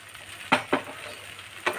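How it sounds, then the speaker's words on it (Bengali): Roti upma fries in a pan with a soft, steady sizzle, broken by three sharp scraping stirs, quiet and close with no voices. "অল্প ভাজা ভাজা করে নিতে হবে।"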